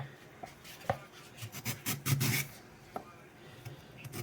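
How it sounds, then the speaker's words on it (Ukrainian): Carrot being grated on a Korean-style carrot grater while preparing wood ear mushrooms, giving a series of close, uneven rasping strokes with short pauses between them and no talking. "беремо морковочку так, і натираємо її на тертушці для корейської морковки"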